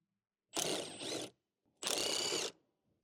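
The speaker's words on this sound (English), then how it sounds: "Use the 8mm socket to remove the 2 bolts holding down the lower airbox." A ratchet with an 8mm socket loosens bolts holding down the lower airbox of a Ford Explorer, making two close, distinct bursts of rapid clicking separated by a short pause, in an otherwise quiet space.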